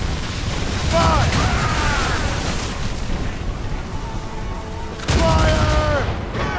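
Naval cannons in Assassin's Creed Rogue boom in two loud bursts about four seconds apart, each followed by rumbling wash and voices shouting over the battle noise.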